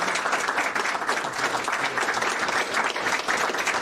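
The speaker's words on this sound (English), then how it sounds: "So, big round of applause." An audience applauds at the end of a talk, dense continuous clapping from many people filling the room, loud and sustained throughout.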